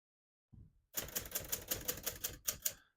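Typing on a 1979 Hermes 3000 portable typewriter: a brief knock, then a steady run of crisp, close key strikes at an even rhythm, finished with two louder clacks.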